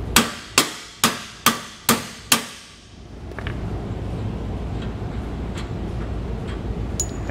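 Six evenly spaced, ringing metallic hammer blows strike a bolt to drive it out of a trailer leaf-spring hanger, each with a short resonant decay, followed by quieter rustling and faint clinks of handling.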